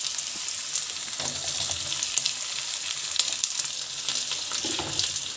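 Onion and capsicum fry in a pan, giving a soft, constant hiss with scattered crackles and a few stirring scrapes, fairly quiet and close.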